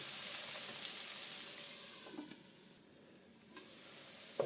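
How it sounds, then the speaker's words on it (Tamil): Onions sauté in a pan for soya curry, a fairly quiet steady sizzle that dips briefly and returns, with a few soft spatula touches. "இப்போ வெங்காயம் வதங்கி கொண்டு வந்துட்டுது"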